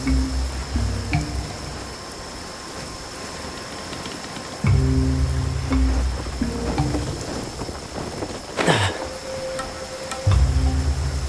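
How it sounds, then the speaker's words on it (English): Rain patters continuously in an open-world fantasy game while short musical tones and chimes come and go over it, with a bright swoosh near the end. "Where'd this rain come from?"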